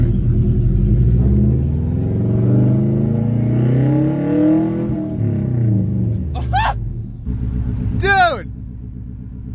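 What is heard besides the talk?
2003 Subaru WRX with new exhaust revving loudly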